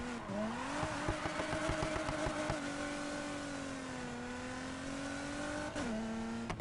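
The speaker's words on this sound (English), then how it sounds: "It sounds like a hybrid or something. What is that? This engine sounds weird." A steady car engine in Need for Speed Heat drones with a rising and settling pitch, revving slightly through gear changes, loud and close, with a brief dip near the end.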